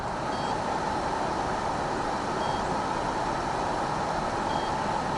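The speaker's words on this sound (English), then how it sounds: "Okay, I got a beep. It's still beeping." A ROCKPALS 300-watt lithium portable power station under heavy load sounds a thin warning beep about every two seconds, faint against a loud, steady hum of noise.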